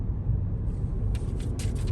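Steady low rumble of a car on the road, heard from inside the cabin, with faint brief hiss bursts toward the end and no talking.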